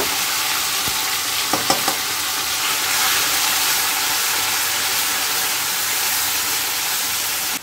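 Onion and tomato paste fry in a pan with a loud, close, steady sizzling hiss, a few quick utensil taps near the start, and then an even frying roar with no speech.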